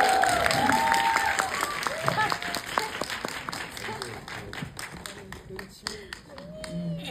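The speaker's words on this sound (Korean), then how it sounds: "여러분들 큰 박수 한번 부탁드립니다" A cinema audience at a special film screening and talk applauds with scattered, moderately loud clapping, while people talk over the crowd throughout.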